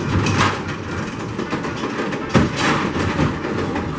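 A purple Togo Ultra Twister roller coaster train with shoulder restraints rolls along its track at Rusutsu Amusement Park in Japan, giving a loud, continuous rattling rumble with clattering track noise and a sharper jolt partway through.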